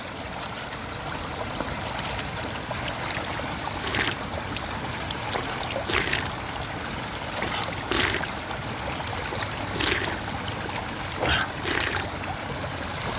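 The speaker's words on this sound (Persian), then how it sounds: "خیلی آب تمیز، خیلی آب روان، آب صاف" Clear natural stream water flows steadily with a continuous close rushing babble, with brief splashes and gurgles recurring every couple of seconds.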